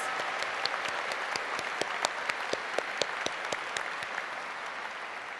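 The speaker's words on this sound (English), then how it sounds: "Let's give a round of applause to the parents and the families of the class of 2011." A commencement audience at Texas A&M University–Commerce gives a steady round of applause for parents and families, a broad, even wash of many hands clapping in a large hall, with a few sharper claps standing out and almost no talk.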